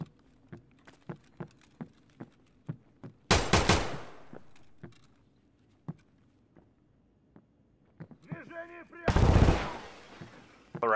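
Bursts of automatic gunfire in Escape From Tarkov, two loud sustained volleys midway and near the end, with light regular footsteps and small clinks filling the gaps between them.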